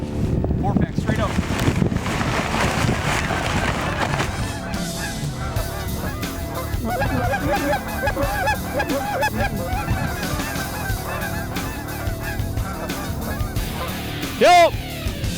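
Flocks of geese flying in during a North Dakota blizzard hunt, honking in a dense, overlapping chorus over gusty wind noise, with voices talking and one loud close honk near the end.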